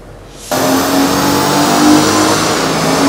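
A car engine revs hard, with a sudden loud surge of engine roar after a brief quiet start, then a sustained high revving drone held near the rev limit.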